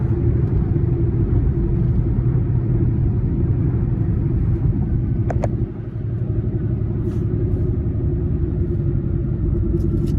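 A car driving on a damaged, slowly leaking tire gives a loud, continuous low road rumble heard from inside the cabin, with a brief dip and a few faint clicks midway.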